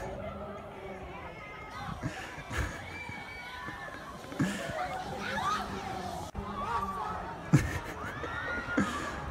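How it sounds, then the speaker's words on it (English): Australian riders on a roller coaster scream and shriek in rising, wavering bursts, heard from a distance over a busy theme-park crowd murmur, with louder peaks coming every few seconds. "I love hearing the Aussies just screaming, having the time of their life."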